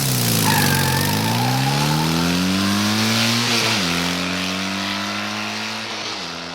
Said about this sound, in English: Legs landed on his motorcycle and, in a flash, kick-started it and was on the way to Merlin's place.